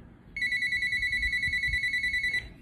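An incoming call sets a telephone ringing with a steady electronic ringtone, a bright pulsing trill that sounds continuously for about two seconds and then stops, close and clear over a low background rumble.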